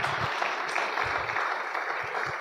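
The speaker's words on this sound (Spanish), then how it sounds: "¿Cuánto podemos dar un aplauso al Señor?" A church congregation applauds together, a dense, steady wash of clapping that stays even and loud for a couple of seconds.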